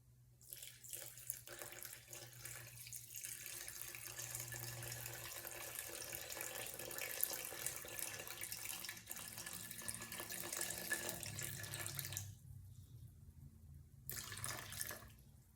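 A steady stream of water runs from a tap into a bowl for bread dough, a continuous splashing pour for about twelve seconds before it stops, then a brief final trickle.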